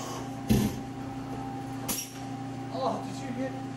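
Automatic tool changer on a Fadal CNC vertical machining center swaps a tool, giving a couple of sharp mechanical clunks over a steady machine hum in a shop, with people talking nearby.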